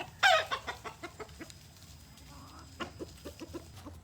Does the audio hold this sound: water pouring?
no